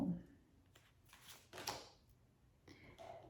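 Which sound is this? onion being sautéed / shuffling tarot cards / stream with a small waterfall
shuffling tarot cards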